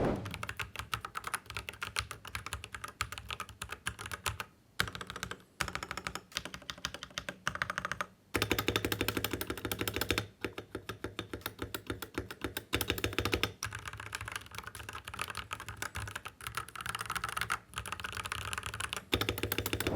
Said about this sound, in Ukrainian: А тепер послухайте, як воно без силікону знизу.